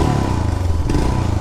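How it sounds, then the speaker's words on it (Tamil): Exhaust note of a 2020 Royal Enfield Himalayan BS6 adventure motorcycle, a steady, close, loud thumping idle with an even low pulse throughout. "இது கேட்டு பாருங்கள் எக்ஸாஸ்ட்"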